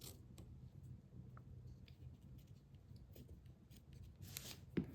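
Scissors cutting a piece of paper for a handmade greeting card, with soft snips and rustling that run steadily through the clip and a sharper cut near the end.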